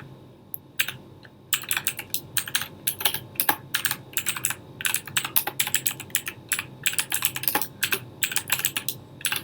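Fast, irregular typing on a computer keyboard during Git setup, crisp key clicks in quick bursts with brief pauses, close and clear with no voice over it.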